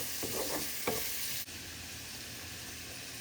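Onions fry in hot oil in a pan for a Bengali fish fry, a steady close sizzle with a few stirring scrapes early on, no voices.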